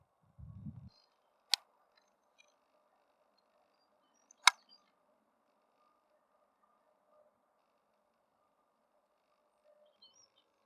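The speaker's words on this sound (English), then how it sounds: "The male makes his characteristic call, sounding like one stone clinking against another." A male great spotted woodpecker in Sherwood Forest gives two sharp, isolated clicking calls like stone tapping stone, spaced a few seconds apart in a quiet wood, with a soft thump at the start and faint background hum.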